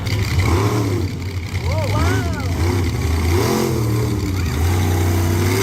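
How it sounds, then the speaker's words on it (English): Monster truck engines rev and roar at a racing competition in Lebanon, a loud, continuous mid-pitched drone with rising and falling pitch sweeps throughout, mixed with crowd or announcer voices. "Triton Robbins and Crazy Train winning the monster truck portion of the racing competition here at Lebanon"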